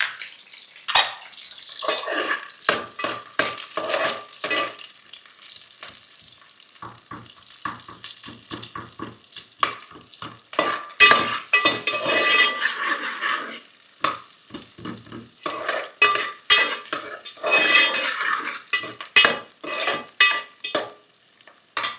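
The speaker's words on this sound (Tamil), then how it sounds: "டைஸ் வெங்காயம், தக்காளியை நம்ம கொஞ்சம் வதக்க போகிறோம்." Diced onion and tomato sauté in a pan for a South Indian fish curry, with frequent sharp scrapes and clinks of a spatula against the metal pan over a light, intermittent sizzle.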